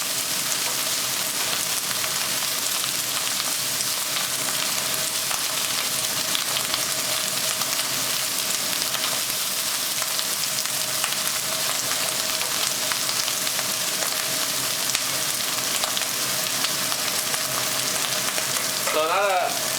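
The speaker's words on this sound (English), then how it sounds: "it's just a very quick stir fry, no more than a minute or two" Continuous crackling sizzle of ginger stir-frying in a hot pan, steady and close, with a brief scrape of stirring near the end.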